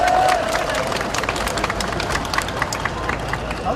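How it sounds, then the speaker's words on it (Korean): Large campaign rally crowd at a presidential campaign launch applauding and cheering steadily, dense sustained clapping with crowd noise throughout, fairly loud and close. "여러분들께 큰 박수 다시 한번"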